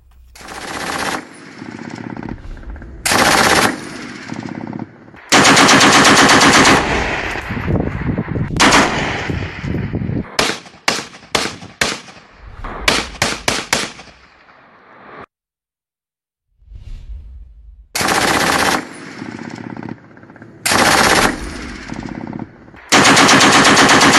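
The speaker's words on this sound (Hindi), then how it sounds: "भारत की जानिब से बिला इश्तियाल फायरिंग में छोटे हथियार इस्तेमाल किए गए" Small arms gunfire along the Line of Control between India and Pakistan, loud bursts of automatic fire and rapid single shots with sharp echoing cracks, broken by short pauses and one stretch of silence.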